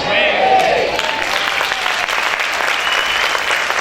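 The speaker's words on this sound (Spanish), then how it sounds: "Dale ese fuerte aplauso al Rey." Church congregation applauding loudly during a sermon, dense sustained clapping close and even throughout, with a voice faintly audible underneath.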